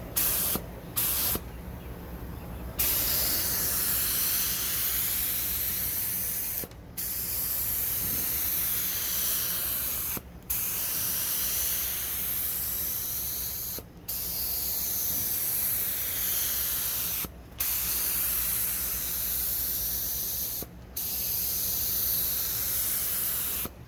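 A paint spray gun atomizes Rustoleum paint in long, loud, steady hissing bursts, each several seconds long and broken by brief pauses as the trigger is released, close to the listener with no voices.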